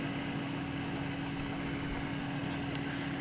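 A pulse motor generator runs steadily on 18 volts input, its pulley turning about 1800 RPM and driving the generator's pulley by belt, giving a constant close hum with an even whirring drone throughout.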